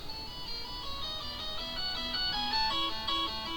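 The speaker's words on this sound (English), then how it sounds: "And that's my phone." A mobile phone ringtone plays a bright, repeating electronic melody of stepped tones, steady and fairly loud, with no talking over it.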